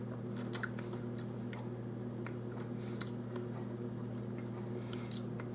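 Someone tasting meatballs and noodles with sour cream from a pressure cooker pot; quiet wet chewing and a few soft clicks over a constant low hum, close, no talk.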